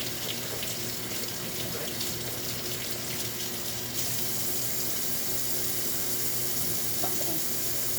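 Tap water runs steadily over chickpeas being rinsed in a sink, a continuous close hiss and splash with no voices, holding even throughout.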